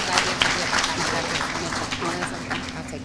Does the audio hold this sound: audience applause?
yes